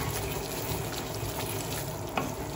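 Onion-based masala paste for egg curry being sautéed in a pan, a dense, even hiss of frying with a soft stir or clink near the end, close and unbroken, no voices.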